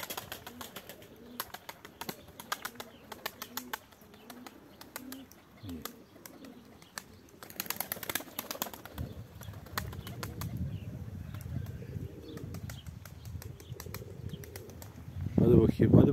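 Tumbler pigeons at a loft in cold weather, soft cooing and bursts of wing flapping, near, with someone talking intermittently and rustling movement throughout.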